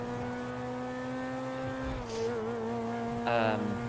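A stock supercar in Grand Theft Auto 5 drives fast, its engine a steady, droning whine with a pitch shift midway and a brief sharper burst near the end.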